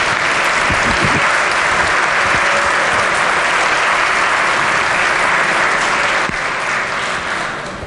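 A seated audience in the West Gallery of the West Virginia Legislature chamber breaks into dense, sustained applause that stays steady and loud throughout, easing off slightly at the very end.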